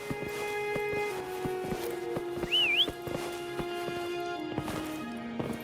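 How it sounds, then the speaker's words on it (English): A short wavering whistle in the video game Wuthering Waves rises and falls once, over rhythmic hoof clip-clops and a sustained musical tone. "Try whistling."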